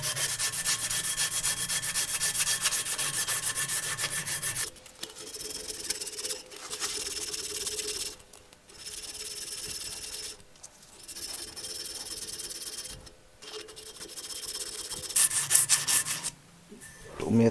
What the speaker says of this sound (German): Da werde ich jetzt hier noch ein bisschen das überschüssige Lot wegschleifen, und das mache ich einfach mit ein bisschen Schleifpapier.